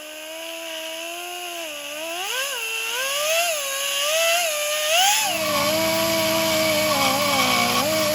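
A power tool grinds the edges of an Allis-Chalmers D17 tractor PTO shaft, a steady high whine wavering in pitch as the tool bites, with a rougher low buzz joining partway through; close and loud, no talk.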